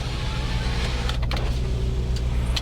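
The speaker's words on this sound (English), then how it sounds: "maybe I'll roll the windows down" Electric power windows on a V8 Ford Taurus SHO whir steadily as they roll down, a soft motor hum layered over the low, steady idle of the engine.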